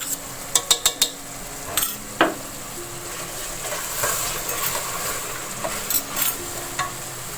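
Whole red chillies frying with potato and fenugreek for aloo methi, a low steady sizzle broken by sharp clinks and scrapes of a spoon stirring against the pan, close and fairly quiet.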